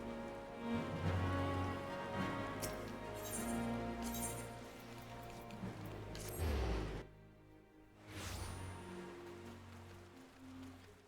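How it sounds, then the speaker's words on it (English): Steady rain patters across the whole stretch in a fantasy role-playing game while herbs are harvested, a dense hiss that briefly drops out near the seventh second before returning, with no talk over it. "So much rain."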